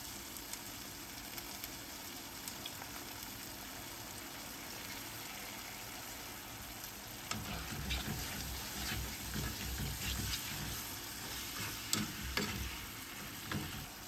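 Onion marmalade with salt, black pepper and balsamic vinegar is stirred in a pan over very low heat, giving a soft continuous scraping and sizzling that grows busier in the second half, with no talk.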